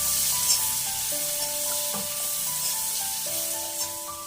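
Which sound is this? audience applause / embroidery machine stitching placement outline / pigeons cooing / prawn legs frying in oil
prawn legs frying in oil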